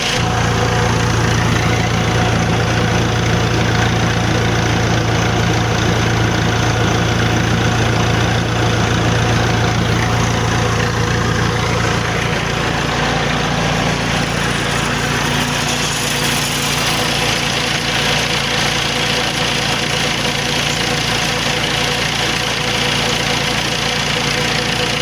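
A Massey Ferguson 285 tractor runs its engine hard to drive a PTO water pump, a loud, steady diesel drone with knocking texture that shifts to a deeper pitch partway through as the revs change; no talking.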